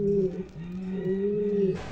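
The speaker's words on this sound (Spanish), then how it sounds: "Esta paloma es hermana por parte de madre" A sport pigeon cooing up close, a sustained low throaty coo that wavers in pitch for most of the moment before cutting off into a brief hiss of noise at the end.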